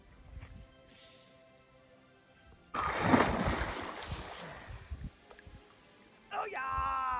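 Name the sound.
water splashing as people go swimming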